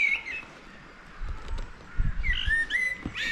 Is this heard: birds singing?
yes